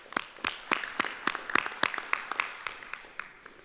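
Sparse, distinct hand claps at a university faculty and staff assembly, a few people clapping in an irregular rhythm rather than a full crowd, fairly faint and thinning out.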